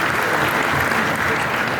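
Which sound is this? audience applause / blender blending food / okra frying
audience applause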